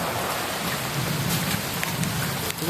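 Sudden heavy rain falls over Konkan paddy fields amid wind and lightning, a loud steady downpour with brief crackling bursts and a low rumble, with no voices.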